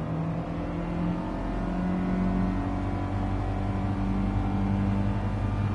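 A Volkswagen Golf GTI engine drones steadily in Gran Turismo 7, a loud continuous engine hum that strains slightly as the car climbs a gentle slope.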